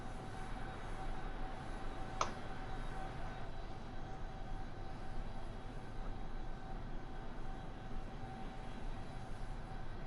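A C-17 Globemaster III transport jet in X-Plane 11 gives off a steady, droning engine roar, continuous and even throughout, with one brief sharp click partway through.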